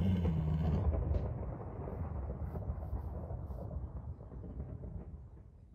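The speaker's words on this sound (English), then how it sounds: "Strike down, Thunder." A thunder strike in the Minecraft minigame Super Craft Brothers Brawl: a loud initial crack fading into a long, low, deep rumble that slowly decays.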